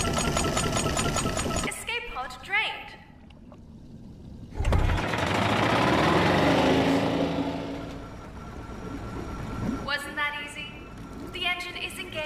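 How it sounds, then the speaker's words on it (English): In a video game, an escape pod's engine engages for ascent with a loud, steady mechanical rumble and whir swelling mid-clip, while voices talk before and after it. "engine is engaged and we are starting our ascent"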